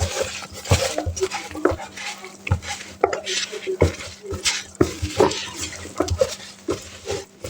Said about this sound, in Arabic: هنقلب كل المكونات دي وندعكها مع بعض كويس